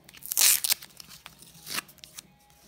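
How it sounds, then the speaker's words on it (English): Tape tearing off a prize package, a sharp loud rip followed by a few shorter tearing and crinkling bursts, close up. "Get some of this tape off"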